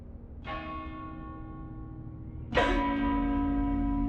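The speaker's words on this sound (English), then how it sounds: "If your hiccups sound like a giant church bell." A giant church bell in the video game Blasphemous 2 tolls twice: a first deep strike with a long ringing decay, then a louder second strike that hums on steadily, with no talking.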